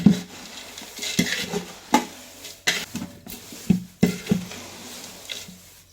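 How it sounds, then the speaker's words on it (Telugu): Flattened rice tempering being mixed in a pan, with repeated close utensil clinks and scrapes against the metal over a soft background sizzle, in irregular strokes. "ఇప్పుడు ఇవి మనం ఇందులో పోసుకోవాలి. ఇప్పుడు బాగా కలుపుకోవాలి."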